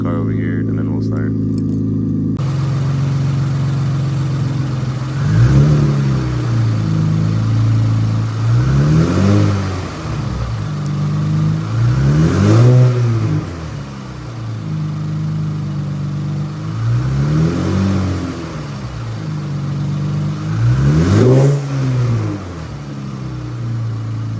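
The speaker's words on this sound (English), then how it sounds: "let's go do those revs for you guys" An Infiniti Q50/Q60 engine with boosted intakes idles loudly and is blipped repeatedly, six or so sharp revs rising and falling at a steady interval, close by.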